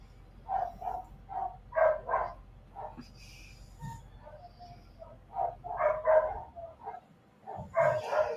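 Several dogs bark from inside a kennel room, muffled and distant, in repeated bursts and short clusters spread across the clip.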